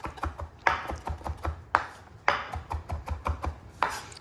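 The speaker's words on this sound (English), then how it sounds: "Slice them a bit and just give them a nice little rough chop" Vegetables roughly chopped with a knife on a cutting board, a quick irregular run of sharp close knocks with a few heavier thuds among the lighter taps.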